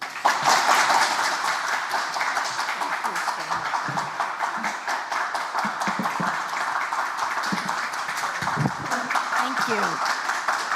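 Applause greets a secretary at Seoul Science Park, a dense wash of clapping that swells and holds steady throughout, with a voice speaking briefly over it near the end.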